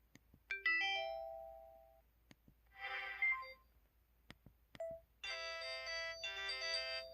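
MS500 phone ringtone for an incoming call: a string of electronic chimes and tonal beeps, separated by short clicks, quiet and close, with no voices.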